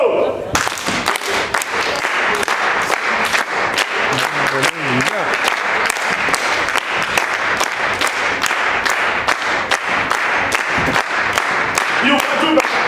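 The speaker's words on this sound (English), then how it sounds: "Are we ready to clap hands for Jesus?" A church congregation at a Sunday service claps hands for Jesus, sustained loud rhythmic clapping with a few voices calling out underneath.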